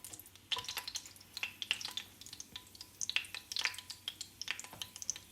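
Chiles frying in hot oil for birria de res, a steady crackling sizzle with sharp pops and spatters bursting through it at close range, no talking.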